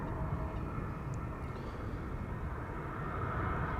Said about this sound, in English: A320neo arriving from Basel.